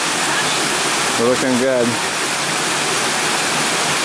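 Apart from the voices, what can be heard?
waterfall on Maui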